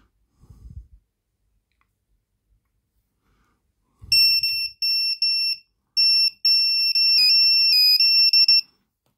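A smoke detector goes off with a loud, piercing high electronic tone that sounds in repeated bursts with brief gaps, after a couple of faint clicks and a soft handling noise.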